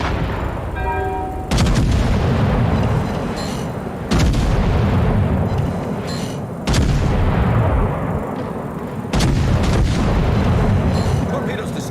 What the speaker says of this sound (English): And I gave him a broadside anyway.